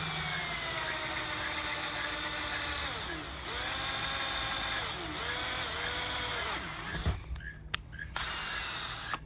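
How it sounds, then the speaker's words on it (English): A power drill boring through a rounded PVC pipe elbow, a steady whining motor hum that dips in pitch as the bit bites, with a short pause before it spins again and a few clicks near the end. "Since you are going to be drilling on a rounded surface, please remember to be very, very careful as you do this."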